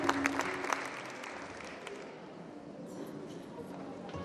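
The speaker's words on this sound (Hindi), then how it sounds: "जोरदार तालियां बजती है साथ।" Audience applause at a Hindi stage tribute event honoring Lata Mangeshkar, a dense burst of clapping that starts strong and settles into steady, moderately loud applause filling the hall.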